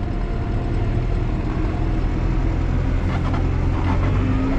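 A New Holland T5.140 tractor engine runs with a steady deep diesel rumble and drone, close and constant with a slight rise as the throttle is pressed, no talk.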